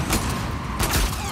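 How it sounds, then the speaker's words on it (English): Rapid gunfire from a firefight in The Last of Us Part II, with dense overlapping shots and booms under a continuous loud game soundscape. "Oh my gosh, I can't shoot him at all."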